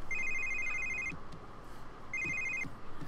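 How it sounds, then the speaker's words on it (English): Phone ringing in the video game The Sims 3, two short bursts of an electronic trill separated by a pause, clear and close, with no talk during the rings. "Is your phone ringing?"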